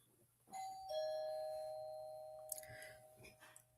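A two-tone ding-dong doorbell chimes once indoors, its clear tones ringing out and slowly decaying, followed by faint rustling and a brief stir of movement.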